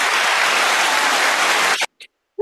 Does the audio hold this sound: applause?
yes